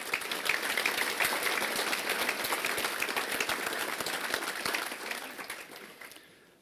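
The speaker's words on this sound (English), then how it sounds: "So can we please give those 4 gold sponsors a great round of applause" An audience at a regional chamber family-owned business recognition event gives a sustained round of applause for gold sponsors, dense steady clapping throughout that fades away in the final second.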